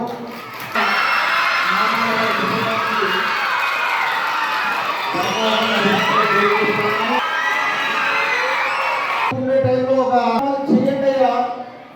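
Children and a crowd at a village school ceremony honouring an education donor clap and cheer loudly in a dense, sustained burst lasting several seconds, then it drops away to voices talking.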